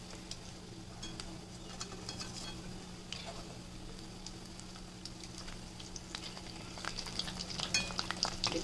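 Urad dal vadai frying in hot oil give a steady, soft sizzle and crackle, with occasional clinks and stirring sounds and no talking.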